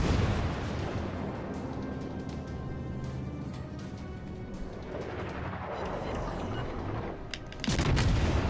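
Warship guns fire in the video game World of Warships: Legends: deep booms roll under a dense, steady battle din, and a heavy salvo lands near the end.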